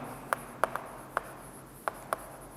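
Someone writes out a physics question on vectors, producing six short, sharp, scratchy pen strokes at irregular intervals over a quiet background with no speech.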